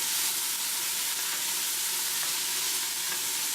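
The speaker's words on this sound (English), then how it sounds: "And then I will stir them up, let them cook a little longer together." Celery and mixed vegetables for a chicken vegetable soup sizzle and cook in a pot, giving a steady, close frying hiss with faint stirring scrapes throughout and no talk.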